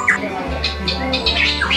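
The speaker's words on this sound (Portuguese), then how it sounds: "É um pássaro canoro, ou seja, canta muito." A hooded pitohui, a poisonous songbird, gives loud, close, harsh squawking calls in a quick series of short bursts over a low steady hum.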